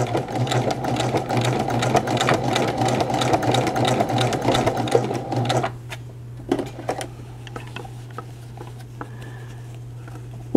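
A sewing machine stitches a women's button-down shirt, running in a steady, fast, continuous whir for about five seconds, then stopping; afterward only a low hum and a few faint clicks and handling taps remain.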